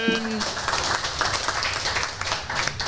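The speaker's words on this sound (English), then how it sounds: "Round of applause for the question" Audience round of applause for a question at a live public house forum, brisk clapping from a crowd with voices talking over it.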